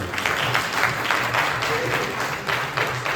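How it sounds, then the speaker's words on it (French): Sustained audience applause filling a hall at a political party gathering, dense and steady for a few seconds with a low background hum underneath. "Est-ce qu'on peut acclamer s'il vous plaît?"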